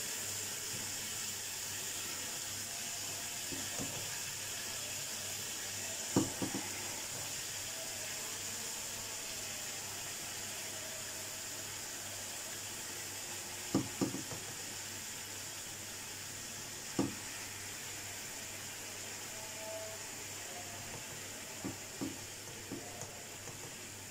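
Mutton frying in a karahi pan for a Peshawari Shinwari karahi: a steady, soft sizzle runs throughout, with a few brief stirring clanks and scrapes at scattered moments and no talking.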